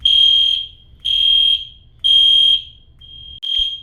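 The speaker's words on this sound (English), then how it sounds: "this alarm is still going off" Smoke alarm going off at night, a piercing high electronic tone sounding in three long, evenly spaced beeps and a fourth starting, loud and alone in a quiet room.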